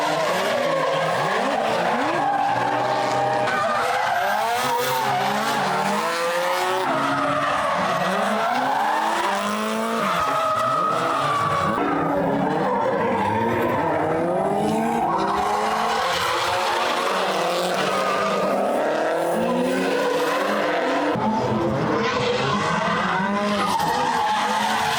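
Drift cars running tandem at the Ebisu Drift Matsuri, their tires skidding and squealing continuously for the whole stretch under loud roaring engines, close by, with no pause or quiet break.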